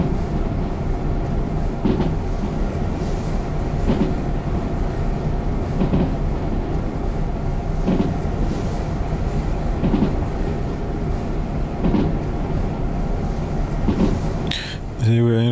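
A train runs along the track in the video game Derail Valley, with a continuous rumble and evenly spaced clickety-clack beats from the rail joints. A loud brief noise breaks in near the end.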